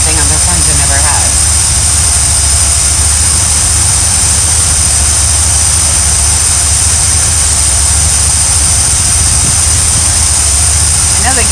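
The engine of a full-time RV runs warm with a loud, continuous low droning rumble and a steady high whine above it, holding unchanged throughout, with faint talk in the background.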